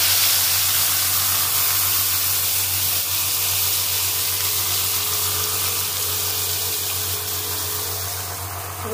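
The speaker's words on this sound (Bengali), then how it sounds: "পেঁয়াজ প্রথমে তেলের মধ্যে ওই তেলে আমি দিয়ে দেবো" Chopped onions hit hot oil in a home kitchen while egg curry is being made, giving a steady, loud sizzle and hiss that holds evenly for several seconds and fades slightly near the end.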